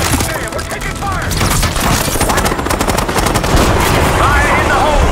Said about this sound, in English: God damn, we're taking fire!